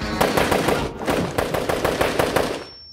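Rapid automatic gunfire rattles in a military comedy film trailer about Swiss army service, a loud, close, sustained burst of shots that cuts off abruptly at the end.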